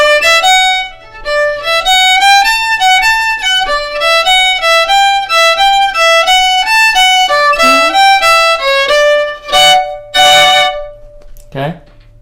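Second half of the B part of the fiddle tune Soldier's Joy, a bright bowed melody of quick, evenly stepped notes played alone and close, ending in a couple of short scraping bursts.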